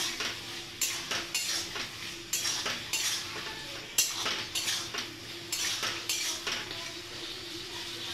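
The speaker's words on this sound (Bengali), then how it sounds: "ভাজা আলুটা দিয়ে আরও একটু কষে নেবো আলুর সাথে মশলাটা" Fried potatoes are stirred with spice paste in a pan, the spoon scraping and clinking against the metal in a steady repeated rhythm over a soft sizzle, close and fairly loud with no talking.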